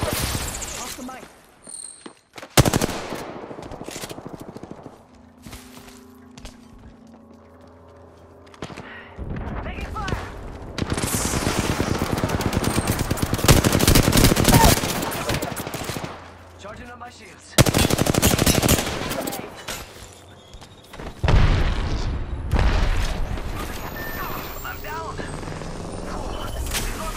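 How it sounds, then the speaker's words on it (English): Heavy automatic gunfire in Apex Legends, loud sustained bursts broken by short pauses, with dense crackling volleys and low rumbling between them, all close and dominant. "Taking fire. Listen up, I'm getting shot at."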